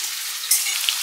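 Vegetables fry in a pan with a short, bright, even sizzle heard up close and a couple of tiny pops, with no voices.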